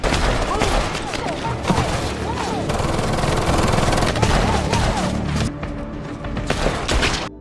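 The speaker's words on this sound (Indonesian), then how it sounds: "sampai baku tembak dan hantam pun terjadi di sana" Rapid machine-gun bursts and gunfire fill a film fight scene, dense and loud throughout with booms, thuds and clattering, easing slightly near the end.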